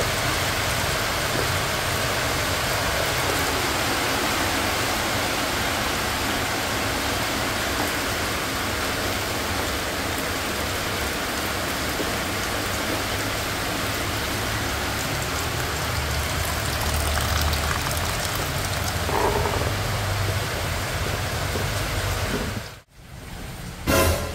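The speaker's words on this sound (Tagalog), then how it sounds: "Ulan na naman." Steady rain pours down outdoors, a dense, even hiss that runs unbroken for most of the clip before a brief clatter near the end.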